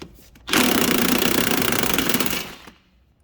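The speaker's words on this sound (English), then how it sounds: "remove the ball joint bolt using my wobbly end and a 17mm socket." An Alfa Romeo ball joint bolt being undone with a 17mm socket on a wobble extension: one loud, steady, rattling power-tool burst of about two seconds, close by, which then stops abruptly, with no talking.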